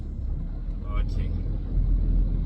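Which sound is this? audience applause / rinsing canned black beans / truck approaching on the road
truck approaching on the road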